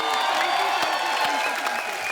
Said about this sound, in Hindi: एक बार सबसे पहले तो फराह मैम के लिए जोरदार तालियां।